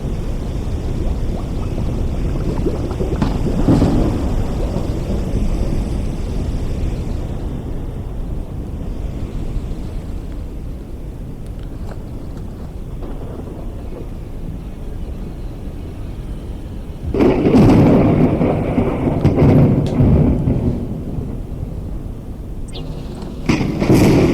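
Thunder rolls during a storm in the video game Forever Skies, with deep rumbling that swells loudly in bursts, most strongly near the end, over a constant wind-like background.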